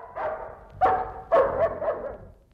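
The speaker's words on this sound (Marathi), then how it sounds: "सुदामा, टॉबी का भुंकतोय?" A dog barks several times in quick bursts, fairly close and loud, with short yips between the louder barks in an indoor household setting.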